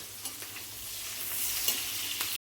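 Onion frying in oil with garlic and cumin in a home kitchen, a steady close hiss of sizzling with a few soft scrapes of stirring, cutting off abruptly at the end.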